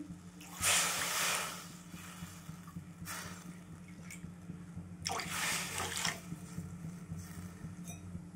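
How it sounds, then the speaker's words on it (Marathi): Water pours into rice flour in two bursts of splashing, trickling liquid, first near the start and again midway, over a steady low hum. "4 वाटी पाणी घालत आहे मी."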